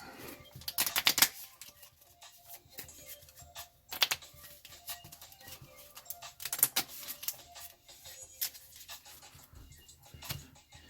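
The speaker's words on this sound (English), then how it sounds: "Shuffle my deck." A deck of WorldBreakers trading cards is shuffled in bursts of quick riffling and sliding card noise with soft handling in between, close and fairly quiet, with no voices.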